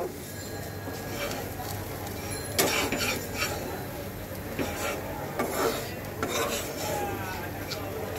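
A spoon scrapes and rubs through dal in a pan as turmeric and coriander powder are stirred in, soft repeated rasping strokes with a few sharper scrapes against the metal, over a low steady background hum.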